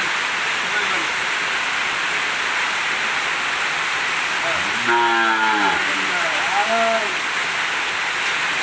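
A cow in a Bangladeshi village gives a drawn-out moo midway and then a shorter call, both set against a loud, steady rushing background noise.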